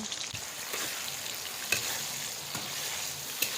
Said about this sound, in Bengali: পেঁয়াজ আর টমেটোকে ভালো করে কষাতে হবে আর আদা রসুনও দিয়ে দিয়েছি এবারে কষিয়ে নিচ্ছি